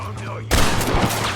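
Gunfire from a Red Dead Redemption shootout bursts in abruptly after a quiet lead-in, a loud, dense volley of rapid shots with a steady low hum underneath and faint talk in the background.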